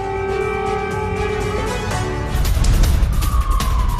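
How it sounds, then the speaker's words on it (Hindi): An air-raid siren wails across Kharkiv with rising and falling tones over heavy low rumble of traffic and city noise, loud and continuous. "पूरे शहर में सायरन गूंजने से हड़कंप"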